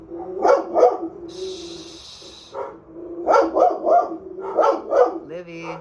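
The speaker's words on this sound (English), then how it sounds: "Y'all know how dogs be." A dog barks in short, sharp bursts, a pair near the start and a rapid cluster later, close and fairly loud, with a person's voice talking in between.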